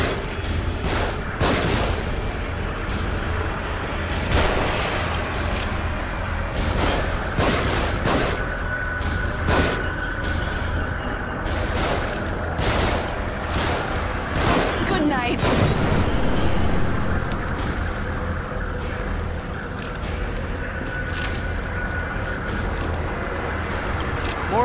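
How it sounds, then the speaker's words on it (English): Gunfire rains down from above in The Evil Within, with repeated sharp shots and booms over constant rumbling combat noise that continues throughout, and a voice speaking at times. "They're shooting from above."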